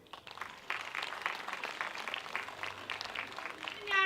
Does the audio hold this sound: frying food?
no